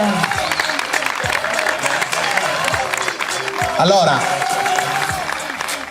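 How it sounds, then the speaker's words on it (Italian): Audience clapping to welcome captain Manuel Vanuzzo to the Pirati, a steady crowd applause heard beneath someone talking and scattered thumps. "Un grande applauso a Manuel."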